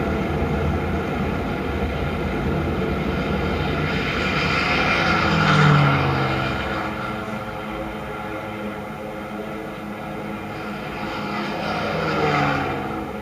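Aircraft engines from fighter planes in the Pearl Harbor attack drone steadily over a low rumbling bed, swelling slightly around the middle and again near the end, with no talk.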